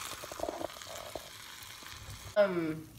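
Keto mini doughnut frying in oil that is far too hot, a quiet sizzle at first that suddenly bursts into a louder, fuller bubbling crackle near the end.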